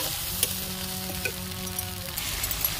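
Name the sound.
onion and spices frying in mustard oil for Odia fish curry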